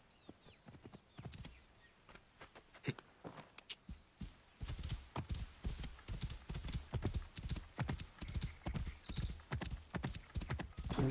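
Rhythmic hoofbeats clip-clop at a quickening pace, getting louder and denser as a horse approaches and gallops close by in Assassin's Creed: Origins.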